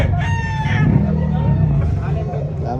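At a busy chicken market stall in Carbon Public Market, Cebu City, a rooster crows once in a loud drawn-out call over steady crowd babble and nearby men chatting.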